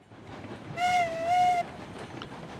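A steam locomotive in Railroads Online pulls a heavy train at full regulator, with a steady rumbling chuff bed under a sustained whistle-like tone lasting under a second, then the low rolling noise continuing alone.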